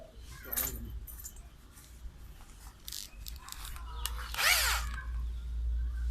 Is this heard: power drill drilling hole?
yes